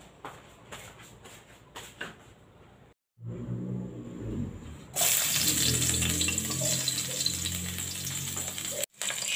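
Fried rice in a pan sizzles with a dense, loud hiss that begins after a short pause and continues steadily, with no talking.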